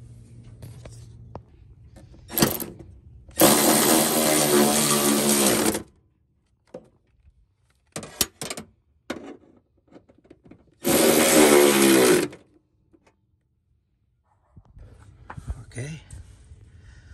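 A power tool whirs loudly in two bursts while bolts on a battery tray and air compressor mount are tightened. Short clicks and handling noises fall between the bursts, and someone talks quietly in the gaps.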